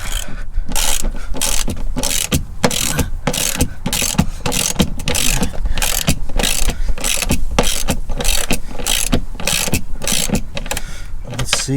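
Ratchet wrench clicking steadily as it turns a bolt thread-locked with heavy blue thread locker on a Porsche Cayenne S 957 with the 4.8L engine, loud rapid pawl ticks in continuous bursts close by, with faint talk.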